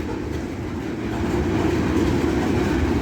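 A long train rolls past a railroad crossing next to an abandoned rail line, with a loud, steady rumble and wheel clatter that builds slightly and holds close by.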